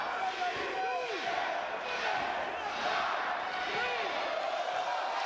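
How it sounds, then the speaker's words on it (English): A wrestling arena crowd chants together in a steady, rising rhythm, counting along in unison; the sustained crowd roar fills the space continuously, with voices carrying over it throughout. "Let's see, the crowd can count."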